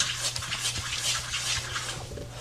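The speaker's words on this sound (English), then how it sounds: "We're gonna whisk it all in together until it melts." Cheese whisked by hand into a lasagna sauce until it melts, a close, quick, scratchy rhythm of whisk strokes against the pot, continuous with no talk.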